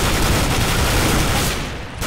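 Sustained gunfire from a firefight on the Assault map in CS:GO, dense and loud, continuing almost without pause for about two seconds with a brief dip near the end.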